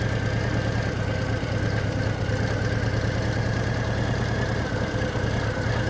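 A motorcycle engine idles steadily and close by, a continuous low rumble holding an even pitch for the whole stretch with no revving and no voices.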